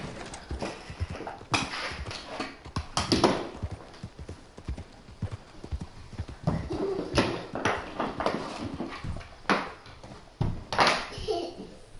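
Horse hooves clip-clopping in Red Dead Redemption 2, a steady galloping rhythm that stays close and loud throughout, with occasional faint voices underneath.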